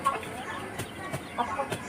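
Several short, soft clucks from chickens sound in quick succession at moderate distance, with faint background noise.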